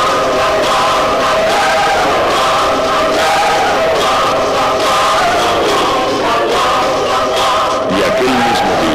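A large crowd in Jerusalem welcoming the Lord with palms, a dense continuous roar of many shouting voices, loud and steady throughout in an old dramatized audio production.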